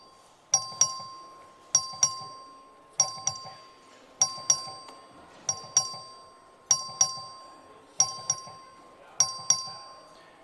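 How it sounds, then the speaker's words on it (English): In a legislative chamber, a vote-call bell sounds in a steady series of about nine bright ringing strikes roughly a second apart, each decaying quickly, with faint murmur of the room beneath. "Clerk, ring the bell."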